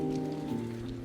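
Steady rain patters outdoors at a weekend market in Oosterhout, a soft continuous drizzle over a low droning hum, brief and fairly faint.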